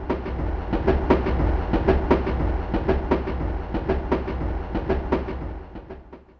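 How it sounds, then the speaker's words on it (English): A train rumbles past with a steady clickety-clack of wheels over rail joints, fairly loud and continuous, fading slightly at the end. "Train."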